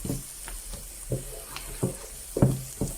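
Curry powder spices frying for a Durban-style crab curry, a soft steady sizzle broken by a few scraping stirs and light knocks of a spoon in the pot, close and without talk.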